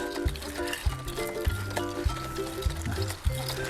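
Melon seeds in a soaking mixture of liquid are stirred by hand, with steady sloshing and knocking against the container in a loose repeating rhythm, close and fairly loud.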